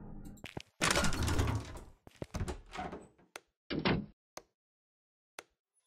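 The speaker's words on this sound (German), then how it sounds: "War das die Tür?" A door slides shut with a heavy thunk in the horror video game Precipice, followed by scattered knocks and clatters, and a sharp tick at the end.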